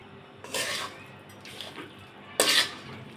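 Grated coconut and sugar mixture stirred in a wok, two or three scraping strokes of a spatula against the metal, close and moderately loud with quiet gaps between them.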